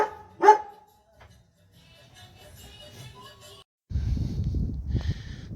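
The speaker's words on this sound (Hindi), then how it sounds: "वो भौंक रहा है पंखे की ओर" A dog barks at a moving fan in a valley home during heavy snowfall, one sharp close bark followed by quieter shuffling and a low rumbling noise toward the end.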